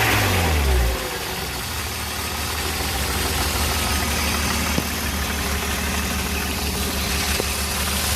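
Car engine idling steadily after a brief rev at the start, with an oil leak that makes it smoke, a rough continuous low rumble close by and occasional faint knocks.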